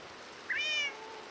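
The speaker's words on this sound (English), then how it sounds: "You should be hearing rain and kitties and stuff like that." A single short cat meow from the Minecraft video game, clear and tonal, rises over faint steady rain-like background noise and lasts about half a second.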